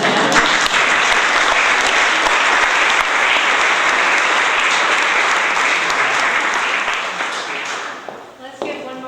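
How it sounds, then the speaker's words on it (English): A gallery audience at a photography event applauds its artists, with loud, dense clapping holding steady for about eight seconds, then thinning out as a voice begins speaking at the end. "Let's give one more round of applause for all of our brave artists"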